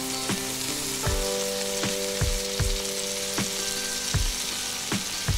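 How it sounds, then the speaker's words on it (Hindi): Vegetables fry over high heat with soy sauce and vinegar, a loud, steady sizzle with repeated sharp clinks of a utensil against the pan. "तो ये करके मैं इसको अच्छे तरीके से फ्राई कर लूँगी"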